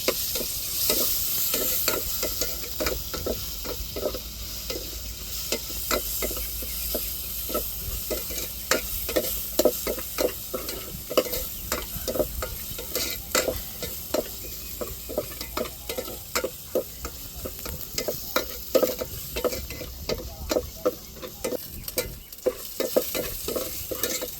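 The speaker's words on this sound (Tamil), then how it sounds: "இடித்து எடுத்த பூண்டை சேர்த்து வதக்கி விட்டுருவோம் நல்லா" Crushed garlic sautéing in a pan for a coconut milk rasam: a continuous soft sizzle with frequent scraping stirs and clicks of a spoon against the pan, close and alone.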